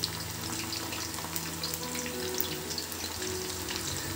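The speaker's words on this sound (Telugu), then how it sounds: "అప్పుడే అది బాగా ఫ్రై అవుతుంది కింద భాగం." Chicken 65 pieces frying in hot oil in a batch, a dense, steady, close crackling sizzle that continues without a break and has no talk over it.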